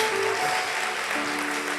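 Church congregation applauding during a worship service, a brief, even burst of many hands clapping with sustained organ or keyboard tones held underneath.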